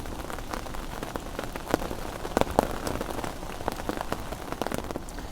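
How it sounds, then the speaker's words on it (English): Pouring rain by a fishing lake, a steady dense patter of drops on a nearby surface with sharper individual taps scattered throughout, continuous and close, no voices. "while we're sitting here in the pouring rain"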